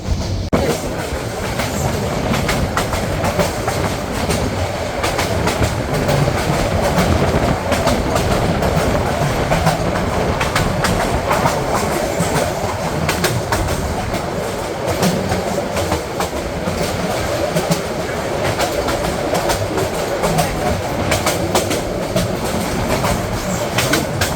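A Parjotak Express train from Dhaka to Cox's Bazar runs along the tracks past the newly built Dohazari railway station, giving a steady loud rumble with continuous wheel clatter heard close from on board.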